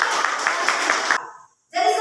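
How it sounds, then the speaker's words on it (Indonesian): Classroom applause for a student group after a project presentation, a dense burst of clapping from many hands that fades out, then a short pause before talk resumes. "Tepuk tangan untuk kelompok."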